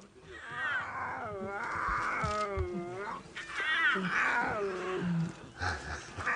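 Lions roar and groan on a morning safari drive, several deep calls rising and overlapping close by at a steady, loud level, while people talk quietly over them.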